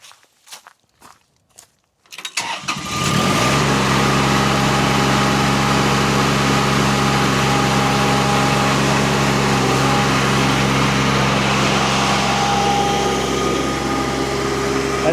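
A few footsteps on the ground in the woods, then a mini skid steer disc mulcher spins up into a loud, steady whining roar with a strong engine drone that holds close and continuous to the end.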